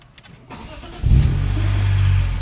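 A BMW E46 M3 with SMG transmission, fresh from a starter motor replacement, cranks briefly and fires into a loud, steady idle close by.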